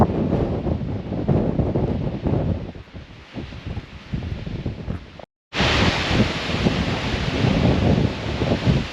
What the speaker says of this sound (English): Listen to the noise of the wind through those trees.